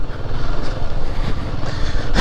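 A Royal Enfield Himalayan 450 motorcycle rides a dusty trail in remote Nepal, its engine a steady low rumble mixed with buffeting wind, loud and close throughout with no talk.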